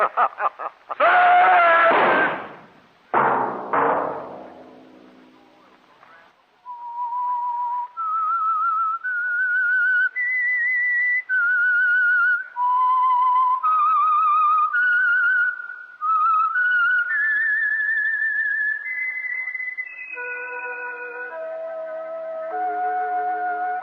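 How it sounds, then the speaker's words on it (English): A melodic whistled tune, clear and close, a steady run of rising and falling notes after a brief burst of louder noise at the start. "Let that whistle be your signal"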